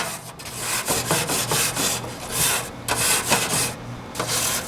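A BBQ grill brush scrubs porcelain grill grates on a Weber grill. The strokes are rapid and rasping, repeated back and forth at close range, with no voices.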